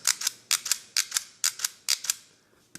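A Crash B-Daman Omega Bahamut plastic toy launcher fires repeatedly, giving sharp, close mechanical snaps and clicks, often in quick pairs, with a fainter final click after a pause.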